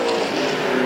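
Race cars roar past on a half-mile high-banked oval at Salem Speedway in 1987, a brief, loud, steady engine drone close by.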